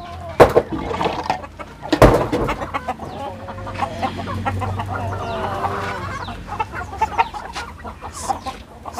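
Native country chickens and Kadaknath hens on an integrated farm cluck repeatedly at close range, with a few sharp louder bursts near the start and scattered clucks and calls continuing over a low background.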